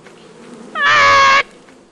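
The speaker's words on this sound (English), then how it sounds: "Go distract it and take the bees away." Bees buzzing in the video game Lethal Company, a single loud, steady harmonic drone lasting under a second that starts and stops abruptly over a quiet background.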